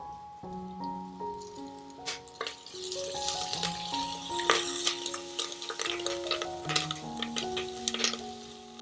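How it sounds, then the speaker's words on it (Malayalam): Onions and two sprigs of curry leaves sauté in a pan for a sardine dish, giving a steady sizzle with stirring scrapes and clinks, all under continuous music. "ഇതെല്ലാം നന്നായിട്ടൊന്ന് വഴറ്റിയെടുക്കാം."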